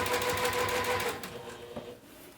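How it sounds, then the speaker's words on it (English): A sewing machine stitches D-ring connectors for a crossbody bag, running in a fast close rattling burst that slows and stops after about a second and a half, leaving faint handling noise. "let's go ahead and sew up the D-ring connectors"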